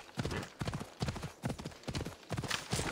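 A horse in the video game Assassin's Creed Odyssey gallops close by, a quick, steady clip-clop of hooves in clear rhythmic bursts with no talk over it.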